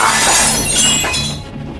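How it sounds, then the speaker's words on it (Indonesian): Window glass shatters loudly and close, a bright crashing burst followed by tinkling shards that fade away over under two seconds, no voices. "jendela kamarku meledak dan pecah berkeping-keping"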